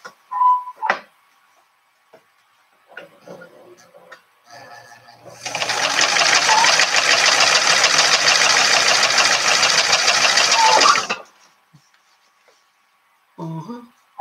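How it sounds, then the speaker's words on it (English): Sewing machine top-stitching a makeup pouch, a fast rattling mechanical whir running steadily for about six seconds in the middle, with quiet speech and handling noises before and after. "top stitching with your machine"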